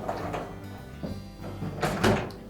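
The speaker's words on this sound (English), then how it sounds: "So we'll open the dishwasher up again, place the rack on the door, put our cutlery basket back in" Frigidaire dishwasher door being opened and its lower dishrack set down on the open door, giving a few soft clunks and plastic knocks at moderate loudness, the heaviest pair near the end.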